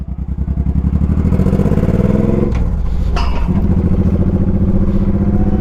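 A motorcycle engine roars loud and close during a test ride, revving steadily with brief shifts and dips in pitch as the rider accelerates, alone with no voices.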